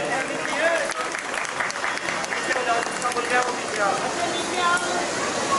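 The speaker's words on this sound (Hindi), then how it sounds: "सभी की तालियां बजती रहे।" Audience at a Jain Panch Kalyanak ceremony in Shakarpur clapping continuously, a dense rain-like patter of applause with voices and murmur mixed in.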